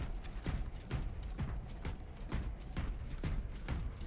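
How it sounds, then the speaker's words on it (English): Magazines are refilled from an ammo box in Space Marine, likely for a heavy bolter, with a quick run of rhythmic metallic ratcheting clicks repeating evenly about twice a second, close and clear. "Alright, ammo box. Here he comes. Card effects. Refilling magazines."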